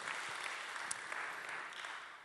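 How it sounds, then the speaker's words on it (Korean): An audience claps together after a young man is praised at a Christian talk, a steady wash of applause at moderate distance with no voices on top, fading slightly toward the end. "박수 한번 줍시다"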